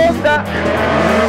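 A Peugeot 208 T16 rally car accelerates hard on snow and ice, its engine roaring up close and loud with a brief gearshift dip and tire noise, while someone talks over it.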